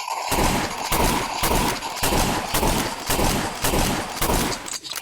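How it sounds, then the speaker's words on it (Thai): Pistol gunshots ring out in the Roblox game Westbound as a loud, rapid run of about a dozen evenly spaced shots, sharp and close, with no talking over them. "ต่อไป ปืนพกอีกแล้ว ตัวที่ชอบมาก"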